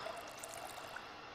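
Filling a bowl with water in Project Zomboid, a survival game: an even trickle and pour that keeps going without pause, fairly quiet and close, with nothing else over it.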